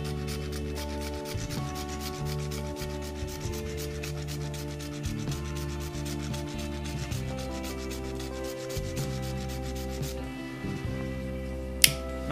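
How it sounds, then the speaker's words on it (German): Cinnamon is grated into a cocktail with steady, close, rapid scraping strokes over a constant low hum, with a sharp click near the end. "Zudem reiben wir ein bisschen Zimt rein."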